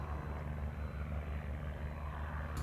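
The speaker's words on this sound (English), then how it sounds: "Here I'm taking off with a CJ6 Nanchang and I'm getting to ground effect" A CJ6 Nanchang propeller airplane roars steadily on takeoff along a runway in ground effect, a constant loud engine drone with a low throbbing pulse from the propeller and no voices.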